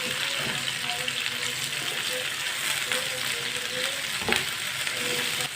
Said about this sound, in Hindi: टमाटर और सब्ज़ मिर्च को भी 1 मिनट के लिए पका लेंगे।